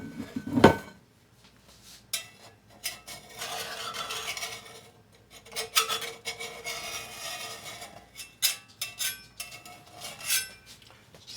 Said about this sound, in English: Need to get it out of the cast iron skillet.